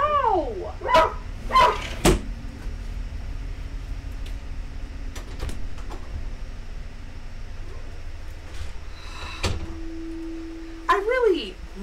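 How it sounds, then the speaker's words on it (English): Several dogs bark at a neighbour in short, sharp bursts, loudest at the start and again near the end, with quieter yips and a door-like knock between them, close to the listener. "They're barking at the gosh darn neighbor."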